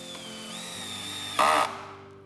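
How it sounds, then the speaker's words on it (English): A cordless power drill drives screws into an outdoor oval pedestal table, a steady high whine that rises in pitch, then a short louder burst as the screw seats before the motor stops. "I'm going to use the power drill for that to make quick and easy work of that."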